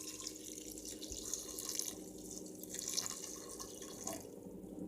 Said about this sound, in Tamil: இப்போ திருப்பி 1 பங்கு தண்ணியை இதில் சேர்த்துப்போம்.